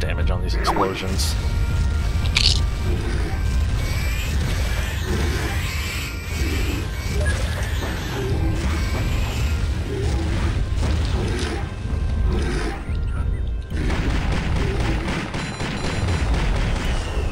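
Video game explosions boom repeatedly through a dense, continuous wash of in-game noise, with players talking over the action throughout.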